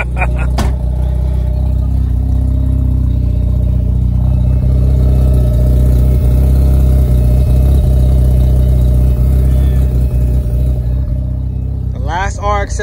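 A 1999 Mazda RX-7 rotary engine runs loud and close with a deep, steady drone, holding high revs throughout, while voices speak over it.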